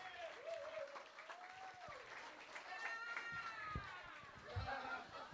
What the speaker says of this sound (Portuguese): Uma salva de palmas para o nosso garçom.